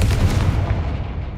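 A single heavy Confringo fire-spell blast in Hogwarts Legacy, a loud booming burst that rolls off and fades within a second, alone without speech.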